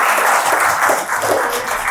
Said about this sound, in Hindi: ताली हमारे लिए।